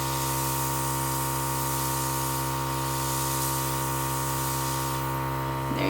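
An airbrush sprays foundation makeup onto a face, a steady soft hiss over a constant compressor hum that ends with a brief clatter.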